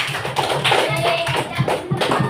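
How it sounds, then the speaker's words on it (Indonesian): Classroom applause for a student group's presentation during a teacher-training session, a short burst of scattered hand claps mixed with taps and faint voices. "Tepuk tangan."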